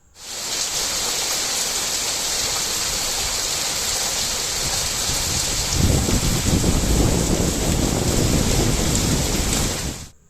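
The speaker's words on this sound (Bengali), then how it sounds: "ততক্ষণে দেখছি প্রচণ্ড বৃষ্টি শুরু হয়ে গেছে" Heavy rain pours steadily in a dense, hissing roar, growing louder with a deep rumble of thunder partway through.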